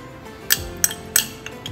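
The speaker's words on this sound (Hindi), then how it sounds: "तमाम स्पाइसेस और इंग्रेडिएंट्स हमने ऐड करने के बाद इसको अच्छी तरह से मिक्स करेंगे इस तरह।" Spices, chopped coriander and oil being mixed into chicken for tenders in a bowl: a few sharp, spaced clinks of a spoon against the bowl over a quiet background.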